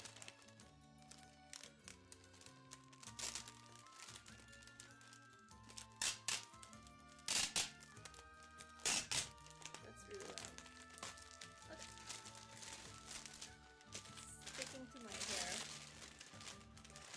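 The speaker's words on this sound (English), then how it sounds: "So first I'm gonna take it out of the plastic because it's very shiny" Crinkling plastic wrap peeled off a Monster Hunter: World Collector's Edition box, with loud, irregular crackles and crunches that come in bursts, and a voice talking intermittently throughout.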